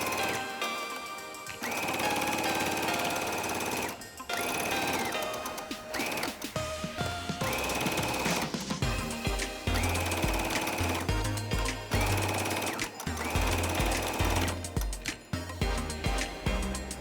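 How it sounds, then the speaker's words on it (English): A sewing machine runs hem stitches along double-folded fabric edges for a cloth mask, steady mechanical clatter with short stops and restarts, close and fairly loud. "Make a double fold along the edge and sew it up."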